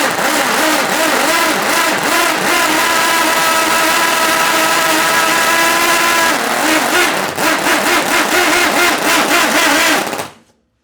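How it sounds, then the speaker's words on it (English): A small see-through Wankel rotary engine runs loudly and close on a bench, buzzing with a raspy, pulsing drone and rising revs before cutting off abruptly at the end. "I'm going to start this up to show you just how crazy this little engine"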